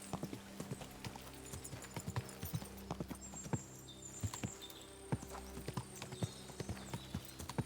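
Horse hooves clip-clopping at a steady walking pace in the medieval game Kingdom Come Deliverance 2, close and distinct, with soft ambient background and no speech.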